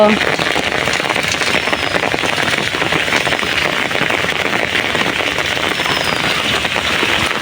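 Loud, constant rain from Cyclone Remal in Chattogram, Bangladesh pours down, pattering hard on surfaces nearby in a dense, unbroken roar from start to finish.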